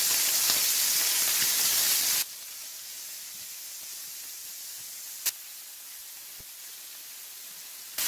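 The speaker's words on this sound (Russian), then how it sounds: "И я могу здесь же обжарить и гребешки." Scallops sear in a hot frying pan while a bouillabaisse fish soup is prepared: a loud, steady sizzling hiss for about two seconds, then a much quieter sizzle with a couple of sharp isolated pops.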